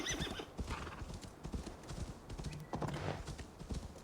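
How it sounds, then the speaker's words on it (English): A horse in Assassin's Creed Valhalla clops its hooves in uneven bursts, close and clear, with a neigh breaking in near the middle. "Come here, horsey."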